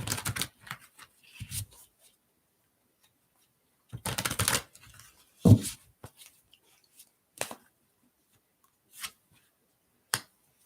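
Cards are shuffled for a reading in quick, crisp riffling bursts, each separated by pauses, close and fairly loud with no one talking.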